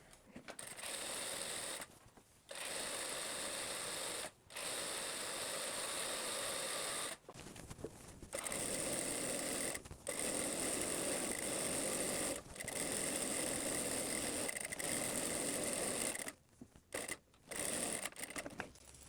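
A domestic sewing machine runs a loose gathering stitch along a skirt panel in long steady bursts of fast mechanical whirring, stopping briefly several times between runs, close and clear with no talking.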